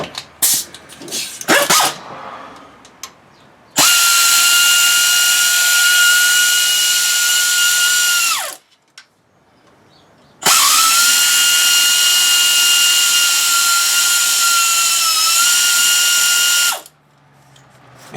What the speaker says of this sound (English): this is a Cheap Harbor Freight air ratchet